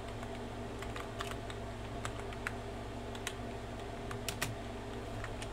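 Computer keyboard typing a key bind command for a game, steady scattered keystroke clicks over a constant low electronic hum, with no talking.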